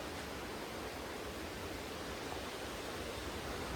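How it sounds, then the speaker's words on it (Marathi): Waterfall at Bhimashankar, a steady, broad rush of falling water heard from a distance, even and unbroken, with no voices over it. "धबधबा मित्रांनो धबधबा बघा कसा दिसतो"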